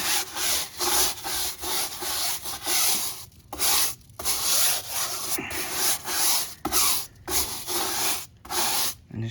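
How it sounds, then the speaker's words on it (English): A brush loaded with cleaner scrubs a dirty trailer wheel in repeated bristly back-and-forth strokes, each separated by brief pauses, near and fairly loud with no voices. "I'm gonna scrub this wheel right now and show you guys how well of a job it is"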